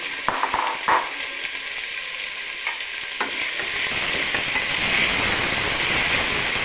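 Sliced onions dropped into hot oil for a Kerala-style beef fry, a few light clinks and scrapes at first, then a loud, steady, close-up hissing sizzle that builds and holds to the end.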